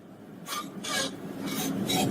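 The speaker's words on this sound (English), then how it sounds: "Ugh, I hate that scraping sound." Eerie scraping from a horror short, four rough rasping strokes at a steady pace, each about a quarter second, over a low background rumble, with no talking.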